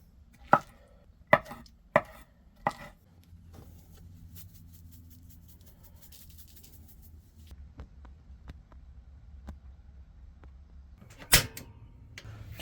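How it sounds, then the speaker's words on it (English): A knife chops foraged oyster mushrooms on a board in a few sharp close knocks, then quieter cutting taps and one last loud chop, with no talk. "I'm going to chop these up"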